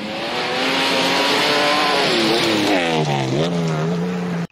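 A Ford Capri 2600 RS with a fuel-injected 2.6-litre V6 drives past, its engine note loud and steady, then dipping and rising through gear changes before cutting off abruptly, with no voices.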